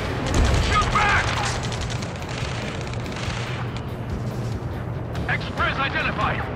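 Gunfire and booms in the Ace Combat 7 mission, rumbling explosive thuds and rattling shots under shouted radio chatter, a dense continuous battle din with voices cutting in near the start and end.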